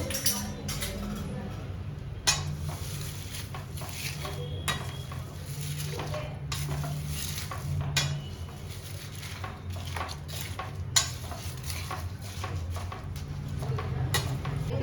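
A herbal shampoo mixture bubbling as it boils in a pot, a soft simmer broken by repeated spoon clinks and scrapes against the metal, close by, with someone talking at times.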